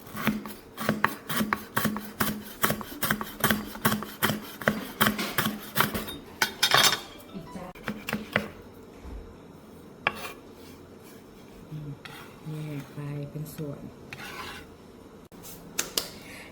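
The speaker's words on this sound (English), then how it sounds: "now you can cut the lemongrass" A knife chops lemongrass into small pieces on a cutting board for Thai curry paste, a steady run of quick close knocks for several seconds, then a few scattered kitchen clinks and softer scrapes.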